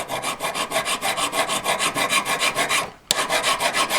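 Metal file rasping up and down a V-claw in steady, rapid back-and-forth strokes, close and loud, with a brief pause near the end before the strokes resume.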